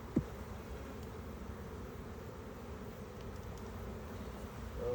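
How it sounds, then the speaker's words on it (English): Honey bees buzz around an opened hive during a beekeeping inspection, a steady low drone close by, with a brief knock near the start and no talk over it. "Lots of bees."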